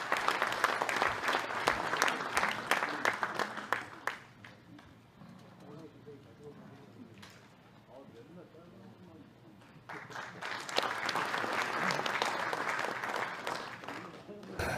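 Applause from a party meeting audience greeting a speaker at a Liberty Korea Party joint conference of lawmakers and district chairs, a dense clatter of clapping that eases off midway, then swells back up loud and sustained.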